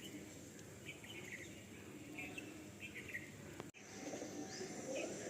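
Andhra pigeons in a loft give soft, low cooing and a few chirps through a steady, faint ambient hum, with a brief dropout midway and some muffled talk in the background.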